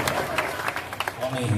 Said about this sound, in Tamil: நம்ம எல்லாம் ஒரு பெரிய கரகோஷத்தை அவருக்கு கொடுப்போம்.